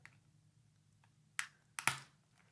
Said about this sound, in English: once I take the switch out